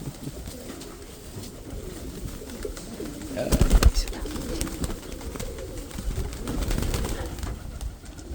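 Pigeons coo softly and repeatedly nearby, with a few rustles and a brief burst of wing flapping midway through.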